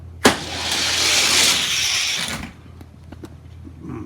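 Modified Hot Wheels die-cast toy cars, including a blue F-150 truck, race down a track: a sharp click at the start, then a loud rushing whir of plastic wheels for about two seconds, fading into quieter rattles and taps.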